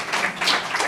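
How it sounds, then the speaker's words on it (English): Light, scattered applause from a lecture audience, a thin patter of clapping that stays fairly steady and subdued for about a second with no talk over it. "By your tepid applause,"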